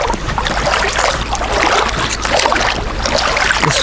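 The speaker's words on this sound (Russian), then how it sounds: "Меня сейчас качают на волнах, которые подняла моторка." Wake waves from a passing motorboat slosh and lap against a kayak on a river, a loud, continuous watery churn up close with no talking.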